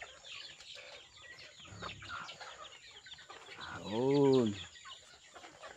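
Chickens and ducks kept on a rural farm cluck and call softly among background noise, with one louder, drawn-out fowl cry standing out midway, and someone speaks briefly.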